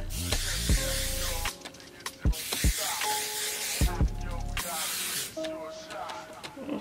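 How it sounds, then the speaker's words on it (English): Several bursts of aerosol hairspray hiss close by as it is sprayed onto curled hair, short sprays separated by pauses and light handling noises, with no speech. "I'm just gonna get a little bit of hairspray and spray my curls or whatever."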